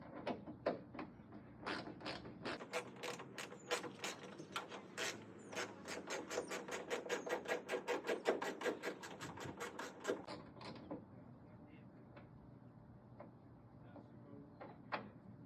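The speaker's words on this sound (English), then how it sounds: "I switched over to the ratchet because of the position that the bolt is" A ratchet wrench turns a bolt on a Toyota Tacoma mud flap, giving a long, steady run of crisp, close clicks that speeds up, then eases into a few sparse clicks before stopping.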